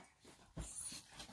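Puppies whimpering and yipping at close range, soft whines with a louder burst midway, faint breathing between, no speech.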